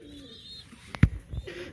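Domestic breeding pigeons in a loft give a few soft, low coos close by, with one short throaty burst standing out against quiet background chirps.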